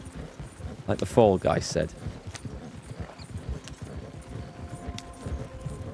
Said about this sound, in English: Wow, that horse is going full tilt.